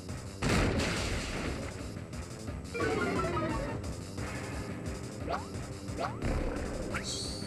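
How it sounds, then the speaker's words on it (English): The Pokémon move Rock Smash lands in a game battle against Regigigas, a loud crashing impact followed by layered thuds, whooshing sweeps and short rising electronic effects over a dense backdrop. "Rock Smash!"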